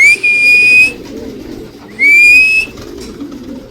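Pigeons at a racing-pigeon loft give two loud, near whistling calls, each rising then holding steady, with a gap between them over a low, steady murmur of background noise.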